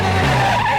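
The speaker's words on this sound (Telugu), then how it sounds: "ఎవడో కారు అడ్డదిడ్డంగా తోలుకొని వస్తున్నాడు." A car skids while being driven recklessly, a short, loud tire squeal with engine noise sustained through the whole brief moment.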